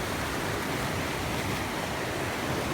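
Sea surf washing onto the Ligurian Sea shore in Italy near a river mouth: a steady, loud, broadband wash of waves, continuous throughout with no clear breaks, and no voices.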